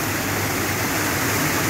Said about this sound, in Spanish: pequeña cascada